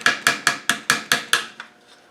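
Seven evenly spaced sharp metallic hammer taps on a part of a Land Rover LT77 gearbox during a restoration, close and crisp, followed by one softer final tap and a fading ring.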